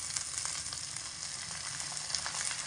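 Small diced medium-sized potatoes frying in a pan give a steady, dense sizzle that hisses evenly and close throughout, with no voices.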